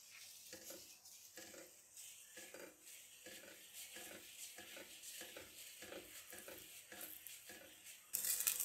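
A cheese-stuffed paratha fries in butter on a flat griddle, with a soft continuous sizzle under repeated scraping and clinking of a spatula against the pan, ending in a brief louder burst.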